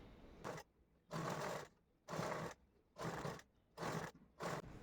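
A sewing machine stitches lace onto a sleeve in six short bursts separated by brief pauses, its whirring motor rising and stopping each time, faint and close.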